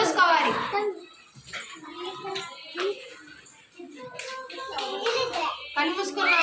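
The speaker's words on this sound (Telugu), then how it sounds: "Very good. క్లాప్స్ కొట్టండి." Young children clapping their hands in a classroom, a few bursts of patting claps mixed with children's voices and a teacher speaking, fairly close and moderately loud.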